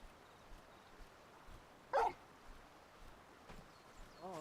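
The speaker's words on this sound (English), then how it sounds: "Dog." A single short dog bark in the role-playing game Final Fantasy XVI, moderately close and clear against a quiet low background, with faint yips trailing off later.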